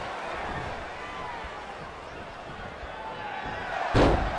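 A wrestler lands a cross body on an opponent in a WWE Raw women's match between Naomi and Jillian Hall, one sharp, loud slam on the mat near the end over steady arena crowd noise and commentary.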